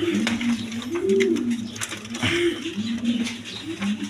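A pair of White Danish pigeons coos close by, repeated soft rolling calls rising and falling in a steady rhythm over a faint background hum.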